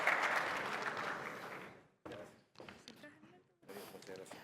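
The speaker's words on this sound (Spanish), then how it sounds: "le damos un fuerte aplauso también a Arnoldo" An audience applauds at the opening panel of an industry event, a bright dense burst of clapping that fades out within about two seconds, followed by a few quieter patches of sound with voices.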